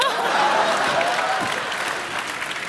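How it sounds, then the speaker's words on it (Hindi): An audience on a TV comedy show breaks into loud, sustained applause that fills the room, with a few chuckles mixed in, fading slightly toward the end. "जोरदार तालियां"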